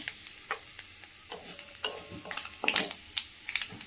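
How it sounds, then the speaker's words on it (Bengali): Panch phoron spices and dried red chilli sizzle in hot oil for a Bengali hog plum chutney, a close, crackly fry with brief spitting bursts and scraping stirs, no talking. "তেলটা গরম হয়ে গেছে, আমি এখানে একটু 5 ফোড়ন দিয়ে দিচ্ছি।"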